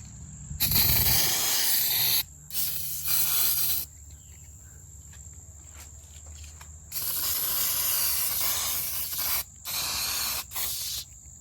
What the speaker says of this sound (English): then we'll be ready to throw some oven cleaner on it and shine her up